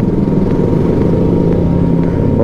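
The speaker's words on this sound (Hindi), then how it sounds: "आपको सुनाई में दे रहा होगा, रेडिएटर का फैन जो है ऑन हो चुका है।" A car's radiator cooling fan running hard after the engine overheated on a road trip, a steady loud whirring drone with low rumble, continuous and close, no talking.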